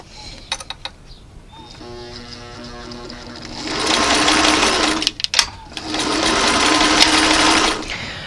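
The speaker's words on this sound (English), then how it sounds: "then you can get out your needle and thread, or in my case, sewing machine" A sewing machine stitching curtain fabric whirs in bursts of rapid stitching, pausing briefly midway before running steadily again, close and loud.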